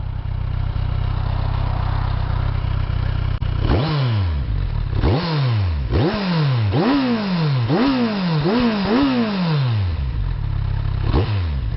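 A Kawasaki Z1000R motorcycle engine starts close by and then gives a run of sharp throttle blips, each rising and falling quickly, with short idling stretches between them.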